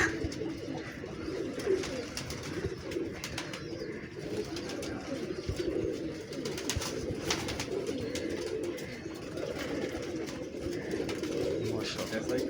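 Many pigeons coo steadily at a breeding setup, a dense continuous murmur of low calls with occasional wing flutters, while people talk faintly in the background.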